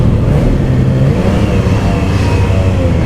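A 2024 Triumph Trident 660 motorcycle engine running loud and close, a dense steady roar with a slight rise in revs partway through and no pauses.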